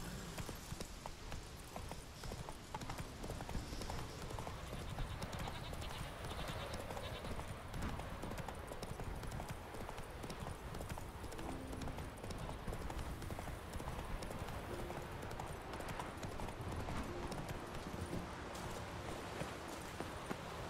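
A horse's hooves clip-clop at a steady rhythmic pace in The Witcher 3 video game, a quiet continuous trot with no talking over it.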